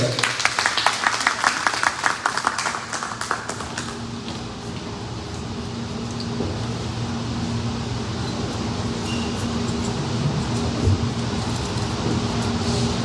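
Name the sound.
applause welcoming the engineer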